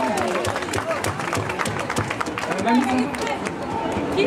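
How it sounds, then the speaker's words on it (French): A studio audience applauds with loud, dense clapping mixed with crowd murmur and some voices throughout the short stretch. "Allez, on l'applaudit, merci."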